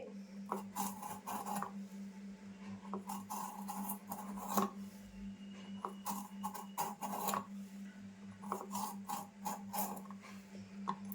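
A knife scrapes the ridges off a ridge gourd for cooking, a run of short, close rasping strokes in a quick irregular rhythm, fairly quiet over a low steady hum, with no speech.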